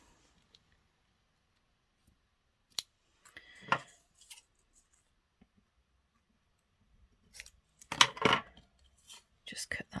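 Craft material or card trimmed with scissors at a desk while making pockets and tags, giving a few sparse close snips and rustles, with a louder burst of cutting and handling near the end.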